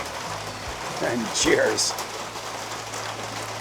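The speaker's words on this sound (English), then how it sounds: "You can hear the rain." Rain falls steadily outdoors in a backyard during a pig-on-a-stick cook on a Masterbuilt Gravity XT grill. The soft patter runs throughout, and a voice speaks briefly over it.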